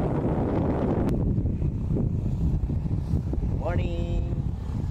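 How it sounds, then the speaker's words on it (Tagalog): Strong wind howls and buffets the microphone outdoors at Highlands Park in Legazpi City, Philippines, a steady loud roar throughout, with a brief whistling tone near the end. "this particular time, it is really windy. Boy, it's screaming and howling."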